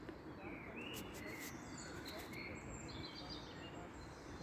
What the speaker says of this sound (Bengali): আর এখানে অনেক অনেক কাক